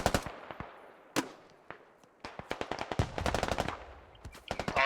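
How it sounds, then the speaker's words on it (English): Gunfire in the video game Squad as a grenade launcher round hits an ammo crate, with rapid bursts of loud sharp shots and an explosion crack amid a busy battle. "So grenade launcher actually hitting the ammo crate, causing it to explode and also go down a level."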